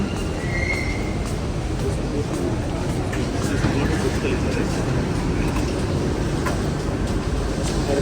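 A Dubai Metro train rumbles steadily from inside the car, a continuous low roar of wheels on rails with faint squeals and light background voices throughout.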